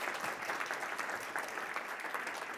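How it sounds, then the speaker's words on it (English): Applause from a conference audience welcoming a speaker to the stage during an afternoon session, a steady dense patter of many hands at moderate, slightly distant level, with no talking. "please give a round of applause and a welcome to Louise."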